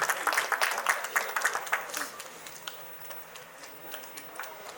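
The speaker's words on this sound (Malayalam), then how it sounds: "സോ നല്ലൊരു കൈയടി കൊടുക്കാം ആ ഒരു ദീപം തെളിയിക്കുന്ന സമയത്തും." A crowd at an Onam celebration claps during a ceremonial lamp lighting, with brisk, fairly loud applause at first that thins into scattered, fainter claps, and voices can be heard faintly underneath.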